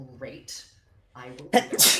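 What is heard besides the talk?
sneeze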